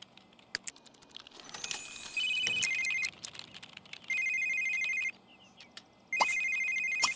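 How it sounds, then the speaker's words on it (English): A phone in The Sims 3 rings in three repeated electronic bursts of about a second each, preceded by scattered clicks and a rising jingle, heard clearly with no talking. "Answer the phone."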